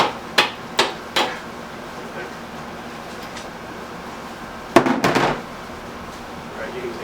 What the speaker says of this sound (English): So I'm going to use a dead blow.